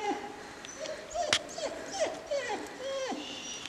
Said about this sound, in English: Then we've got my dog whining.